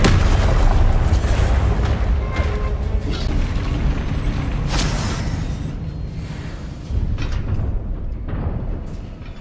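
A Confringo spell blast in the game Hogwarts Legacy erupts as a loud, sustained booming rumble that rolls on for several seconds, with a second swell of explosive noise toward the end and no talk.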